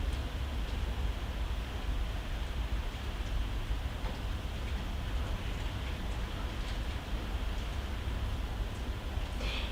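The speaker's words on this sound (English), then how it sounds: "You can hear the rain." Rain falling outside during a yoga class, a steady broadband wash that stays constant and fairly distant, with no talk over it.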